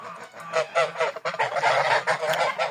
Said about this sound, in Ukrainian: стоїть гусиня сіра велика